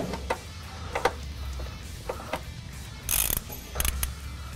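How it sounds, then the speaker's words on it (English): A 1/2-inch socket ratchet tightens a bolt on a Dodge Ram 1500 step installation. Quiet, close clicking comes in short bursts, with a few louder clustered strokes near the end. "while you tighten it with a 1/2-inch socket."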